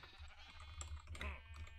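Sheep in Minecraft bleat close by, two short wavering bleats over a faint low hum, fairly quiet with no one talking.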